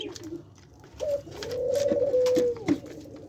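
Pet doves among aviary birds give soft, rounded coos, one drawn-out call swelling in the middle of the stretch with fainter bird chirps around it, close and fairly quiet.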